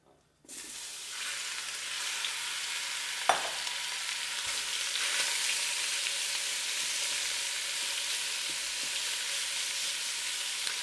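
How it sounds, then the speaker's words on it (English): Beef tips sauté in a hot pressure cooker pot, starting with a sudden loud hiss as they go in, then a steady close sizzle with one sharp knock of a utensil and occasional soft scrapes, no voices. "we can put in our beef tips. We're just gonna saute them for about 2 to 3 minutes"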